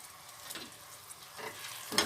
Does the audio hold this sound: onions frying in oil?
yes